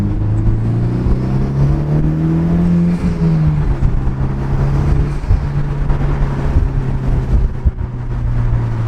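Honda Civic Type R FK8 with an upgraded exhaust cruising around a block, a steady low droning rumble heard from inside the car with a brief rise in engine pitch early on, continuous and fairly loud throughout.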